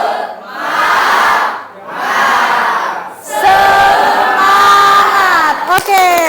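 A school class of ninth-graders chants the tepuk semangat clapping cheer together, loud massed children's voices in rhythmic shouted bursts that swell into a sustained collective cheer in a classroom.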